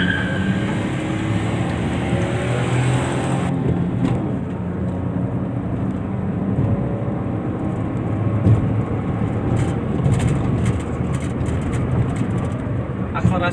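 A Daihatsu Ayla city car accelerates on a test drive in Indonesia, its engine and road noise forming a steady, continuous drone heard from inside the cabin.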